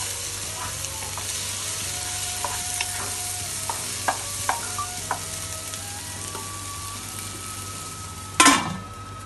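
Tomatoes, onions and garlic cook softly in a lidded pan over low heat, with a steady faint sizzle, light stirring clicks and a louder clatter near the end.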